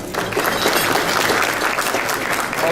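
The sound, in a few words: audience applause for sponsors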